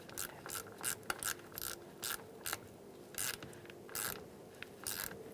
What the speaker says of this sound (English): and use an 8mm socket.